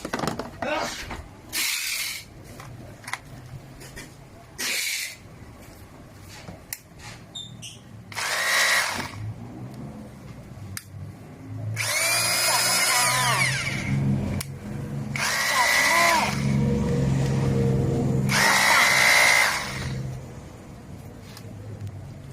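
Bosch GBH2-26DE 800-watt three-mode rotary hammer drill runs in several separate bursts of a few seconds each, loud and close, with quieter pauses and handling noise between.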